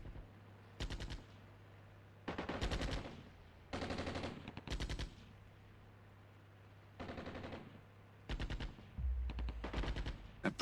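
Gunfire in the video game Armored Brigade II, Scandinavia DLC: repeated sharp bursts of automatic fire in clusters separated by brief quiet gaps, fairly close and with no talk.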